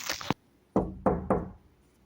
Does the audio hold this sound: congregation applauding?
no